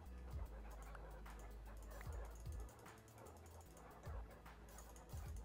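Many wolf-dogs in Minecraft yap and whimper together in a quiet, ongoing tangle of overlapping barks, with low periodic thuds beneath.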